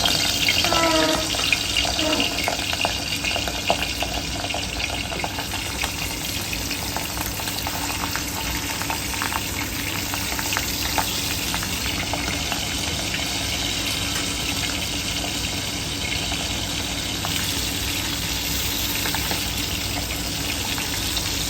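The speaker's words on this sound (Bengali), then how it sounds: "এখন মাছ ভাজবো, তাওয়াটা গরম হয়ে গিয়েছে," Rohu fish pieces fry in hot oil on a heated tawa, a continuous dense sizzle and crackle held close and steady for the whole stretch, no talk.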